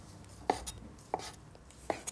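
A knife cuts through white sausage on a board in three sharp, separate chops spaced about half a second apart, close and fairly quiet, with no talking.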